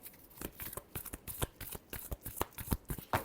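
Tarot cards are shuffled by hand in quick, crisp bursts of riffling and tapping, close and fairly loud, with no voices over them.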